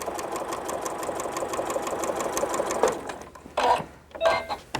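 A sewing machine stitching the corners of a quilt binding runs in a steady close mechanical whir for about three seconds, then stops and gives a few short bursts of stitching.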